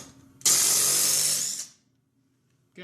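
A Dewalt cordless 3/8-inch impact driver runs in one loud, steady burst of about a second, tightening lug nuts on a wheel, then cuts off into near silence before a faint noise at the end.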